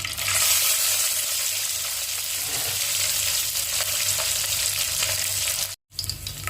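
Cashews and raisins fry in hot oil for chicken pulao, giving a steady, loud, close sizzle that runs without a break until a brief cut near the end.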